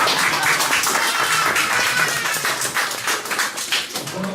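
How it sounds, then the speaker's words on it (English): A crowd applauds at an end-of-summer class celebration, a dense, steady patter of many hands clapping together that thins slightly toward the end. "let's all clap our hands for that"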